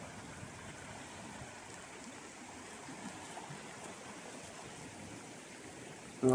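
Moldova river flowing past a village, a steady, moderate wash of broadband water noise that holds even for the whole stretch with no voices over it.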